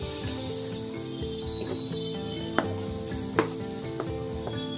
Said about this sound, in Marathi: पॅन ठेवलेला आहे, त्यामध्ये आपण कांदा टाकून घेऊया